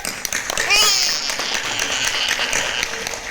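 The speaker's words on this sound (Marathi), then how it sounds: "सर्वांनी एकदा टाळ्या वाजवा" An audience claps together at a stage event honouring young children in an Indian cultural values class, a dense, steady patter of many hands with a voice speaking over it.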